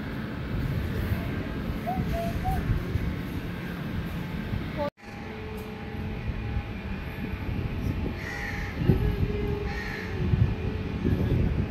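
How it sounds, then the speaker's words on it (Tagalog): Crows cawing in a busy outdoor area near Changi Airport's Jewel in Singapore, a few harsh calls rising over a steady rumble of traffic or trains, with a brief cut midway. "What's the sound of bird?"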